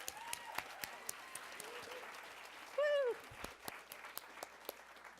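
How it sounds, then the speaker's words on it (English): Scattered audience clapping at an opening-remarks gathering, with sparse sharp claps throughout and a short tonal whoop or cheer rising midway, fairly faint overall. "So let's give a round of applause for Joan."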